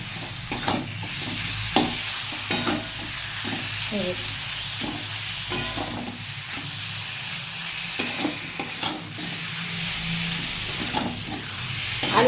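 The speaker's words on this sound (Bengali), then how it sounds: "এবার আমি আলুটা এর সঙ্গে কষিয়ে নেবো" Potatoes sauté with spices in a pan for dhaba-style chickpea and pea ghugni, a constant sizzling hiss broken by repeated scraping stirs of the spoon at close range.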